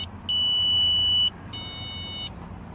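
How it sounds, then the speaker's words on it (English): A car's starter interrupt module gives two sharp electronic beeping buzzes, the first about a second long and the second slightly shorter and softer, loud and close over a faint low hum. "I hear the beeping sound. I hear the module out here somewhere."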